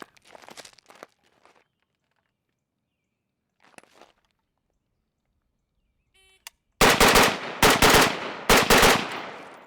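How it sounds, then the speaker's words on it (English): Rifle fire during a timed shooting drill rings out on a bright outdoor range: after quiet shuffling, a rapid burst of loud, close shots cracks out in quick clusters. "Let's do a third run, see if I can shoot it clean and for time."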